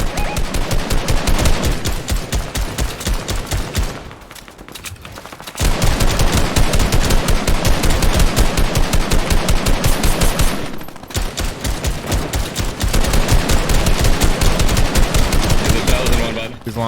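Fortnite gunfire, sustained rapid automatic bursts, loud and close, broken by two short pauses, with faint background noise and no clear speech.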